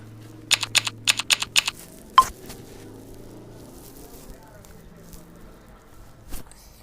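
Taps on an Android phone's on-screen keyboard come as a quick run of about six sharp, close clicks, followed by one louder tap and then a later isolated one, over a quiet room hum with no talking.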